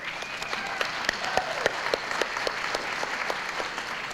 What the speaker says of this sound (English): Yes, clapping is good for the winners.